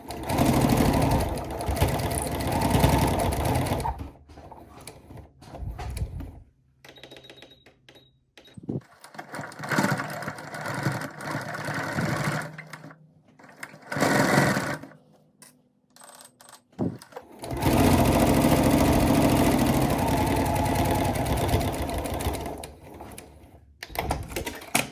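A domestic sewing machine runs in bursts while stitching a curved seam on an Eddy cardigan blazer, loud and close, with long steady runs broken by pauses and slower, careful stitching.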